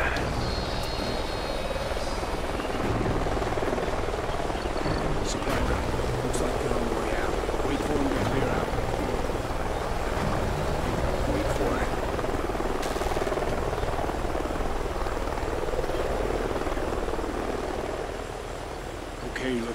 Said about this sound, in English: Sounds like a chopper's up ahead of us